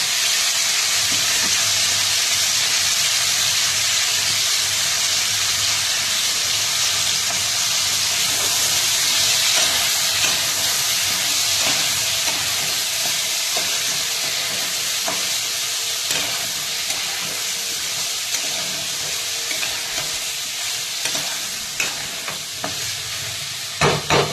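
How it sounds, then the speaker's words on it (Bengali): Potatoes, peas and shredded chicken fry in a pan with softened onion and tomato: a steady, fairly loud sizzle and hiss with occasional light stirring scrapes toward the end. "এবারে আমি আলু, মটরশুঁটি আর শেড করা চিকেনগুলো ঢেলে দিলাম।"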